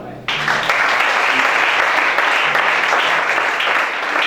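A congregation at a deliverance church service breaks into loud, sustained applause that starts abruptly and holds an even, dense clapping texture, with faint voices underneath.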